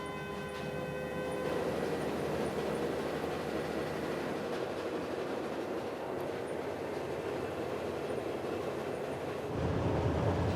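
The Australind passenger train runs south from Perth toward Pinjarra in Western Australia, giving a steady rumble and clatter with a faint horn-like tone early on and a louder rush near the end. No one speaks.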